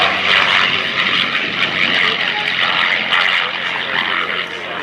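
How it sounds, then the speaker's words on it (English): A P-51 Mustang propeller fighter roars past at the 2025 Abbotsford International Airshow, its loud, steady engine drone filling the air without break. "the Mustang known as Val-Halla"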